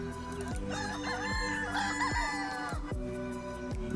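A rooster crowing sound effect plays during a poker tournament, loud repeated harmonic, wavering calls layered over a steady background with periodic low thumps.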